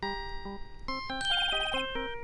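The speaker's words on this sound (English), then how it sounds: "Cell phone music." A cell phone ringtone plays a bright, synthetic stepped melody of a few quick notes after redial is pressed in the Phoenix Wright: Ace Attorney game, heard alone and fairly clearly.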